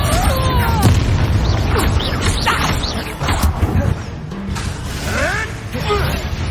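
Confringo spell explosions burst in the Hogwarts Legacy video game, with loud booming blasts, crackling pops and whooshes overlapping continuously amid dense combat effects.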